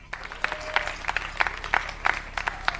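Scattered clapping from an audience at a Hindi poetry gathering, a thin patter of individual claps rising and falling in a loose rhythm, fairly near and moderately loud, with no voices over it.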